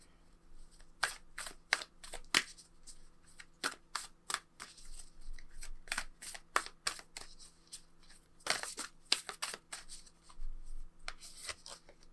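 Oracle cards being shuffled by hand, a run of crisp papery riffles and slaps in irregular bursts, close and fairly quiet over a low steady hum, with no talking.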